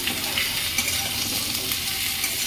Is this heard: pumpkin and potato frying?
yes